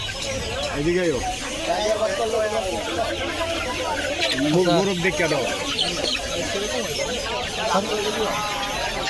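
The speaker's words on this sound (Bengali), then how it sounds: "এটা হলো মুরগির বাজার মানে চারিদিকে শুধু মুরগি আর মুরগি পাইবেন" At a busy poultry market, many chickens cluck and squawk continuously, close and loud, mixed with a crowd's chatter and someone talking throughout.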